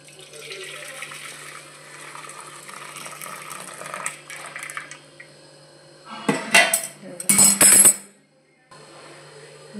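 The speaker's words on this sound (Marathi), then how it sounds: "आता या कारल्यातलं आहे ना पाणी काढून घ्यायचं।" Water is drained off boiled bitter gourd in a pot, with a soft watery wash followed by a few loud clanks and scrapes of the pot near the end.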